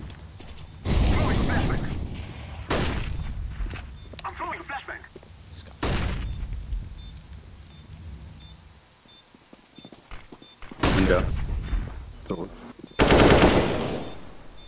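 Bursts of video game gunfire, loud rapid automatic fire with single heavy shots, coming in several separate volleys with short gaps between them.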